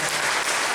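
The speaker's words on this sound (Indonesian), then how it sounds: "Tepuk tangan dulu untuk para pemusik." A church congregation at a Sunday service claps for the musicians, a short, dense burst of steady applause close by with no talking.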